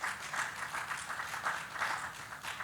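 Audience applause for a panelist from the Lagos Chamber of Commerce and Industry at a regulatory panel discussion, steady dense clapping from a crowd that holds level for the whole stretch without a break.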